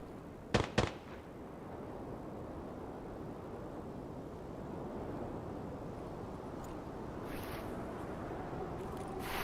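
Two sharp video game gunshots in Arena Breakout crack in quick succession near the start, then a low ambient rumble continues with faint distant pops later.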